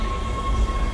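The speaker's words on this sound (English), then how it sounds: "Tram arriving at flight deck station." Tram from the Dead Space game pulling into the flight deck station, a steady mechanical rumble with a sustained tonal hum, moderately loud and continuous with no voices.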